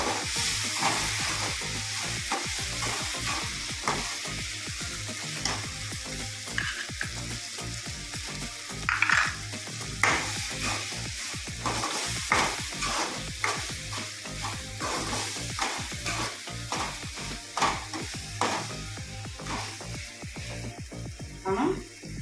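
A garam masala paste of ground cashews and coconut fries in a pan for a drumstick and cashew milk curry, giving a steady close sizzle broken by repeated scraping stirs of a spoon against the pan, with faint talk in the background.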